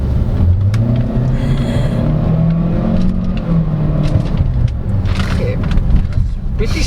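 A 2023 Chery Tiggo 7 Pro SUV with a CVT, in sport mode, accelerates with the throttle floored: a loud, steady engine drone climbs in pitch from inside the cabin while a person speaks briefly over it.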